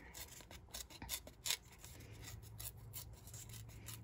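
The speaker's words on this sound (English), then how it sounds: "So then we're gonna just take our piece and we're gonna just tear." A sheet of card stock torn slowly by hand for a tag or card-making project, a continuous soft ripping and rasping texture that runs steadily, close and fairly quiet, with no talking.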